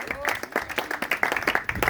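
An audience claps to welcome a guest, Pierre Steinecker of Alter Ego, onto a stage: a dense, steady patter of many hands at moderate volume, running continuously.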